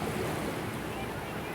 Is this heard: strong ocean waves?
yes